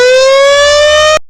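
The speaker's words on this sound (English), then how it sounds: "Correct. That's the fire truck." Fire truck siren sounding a steady, loud tone that holds for just over a second and then cuts off sharply, with nothing else audible.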